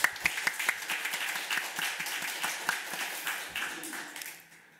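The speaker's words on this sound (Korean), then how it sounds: "하나님께 영광의 박수 한번 들리고 합니다." A church congregation claps during a Sunday afternoon service, with sharp individual claps standing out at first, then a steady round of applause that fades away toward the end.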